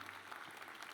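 An audience at a Bowie State University Founders' Day celebration applauds, a brief, even wash of clapping from a crowd heard at low volume.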